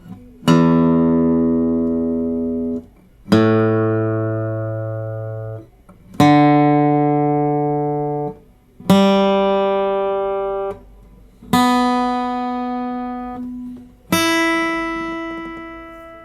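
Six single guitar open-string notes are plucked one at a time, each left to ring out and fade over a couple of seconds before the next, stepping upward.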